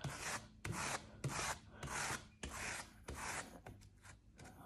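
Glue is brushed across a painting canvas in repeated rhythmic rubbing strokes, about seven close scraping passes with brief pauses between them, with no talking.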